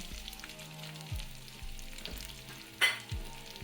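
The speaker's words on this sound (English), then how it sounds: "Now we're going to start adding in our onion." Chopped onion sizzles and fries in hot oil in a pot for sweet potato chili, a steady soft crackle broken by a few louder bursts as the onion hits the pan and is stirred.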